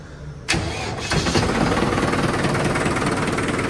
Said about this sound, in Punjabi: ਟਰੈਕਟਰ ਨੂੰ ਮਾੜਾ ਜਿਹਾ ਕਰ ਦਈਏ ਸਟਾਰਟ